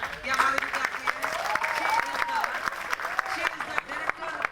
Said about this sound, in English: Please a good round of applause.